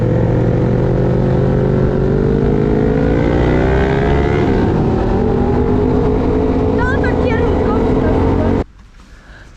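A Yamaha Raptor quad engine idles loudly up close, its pitch climbing as it revs, then cuts off abruptly near the end.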